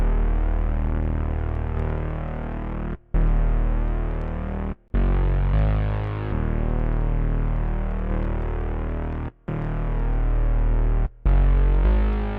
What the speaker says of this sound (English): So that's that bass sound.